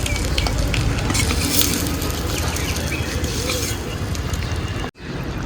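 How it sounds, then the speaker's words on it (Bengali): Pieces of fried egg going into a hot pan with oil: a loud, dense sizzle that runs steadily, then stops abruptly with a brief gap before resuming. "আমি এখন এই যে ভেজে আনা ভেজে নেওয়া ডিমগুলি এখানে দিয়ে দেব"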